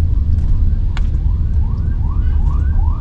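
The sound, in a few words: Toyota Innova ambulance siren passing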